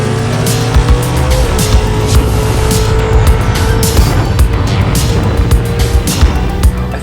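A drag racing car launches hard and runs down the strip, its engine roaring loud and steady the whole time, with tire and exhaust rasp and rapid bursts from the powerband.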